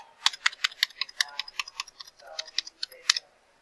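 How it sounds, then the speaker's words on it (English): Rapid clicking of computer keyboard keys as credit card details are typed in, a quick irregular run of close, crisp taps. "And then you type in their credit card information."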